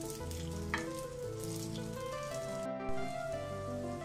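Kuzhi paniyaram batter sizzles in a little oil in an appam pan, a continuous close crackle and hiss with faint scraping, no voices.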